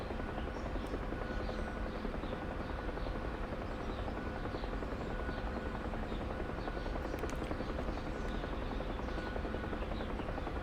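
Bell UH-1 Huey helicopter in the DCS flight simulator cruising at around 90 knots, a steady droning rotor and turbine hum with rhythmic blade thumping, continuous and unbroken throughout.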